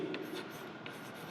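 Chalk or marker scratches against a board while math equations are written, faint light strokes and rubbing over a steady room hum.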